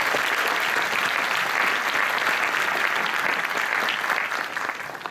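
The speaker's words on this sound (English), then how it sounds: "let's give a big round of applause to these enormously talented" Sustained, dense applause from a large audience at an international science fair opening ceremony, steady and loud throughout before tapering off slightly at the end.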